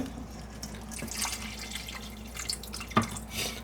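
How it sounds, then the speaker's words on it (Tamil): Water is poured into a pan of fish stew with tamarind, making soft splashing and dripping sounds with one sharper plop near the end. "ஒரு கொஞ்சம் தண்ணியும் விட்டு தண்ணி கொஞ்சம் விட்டு"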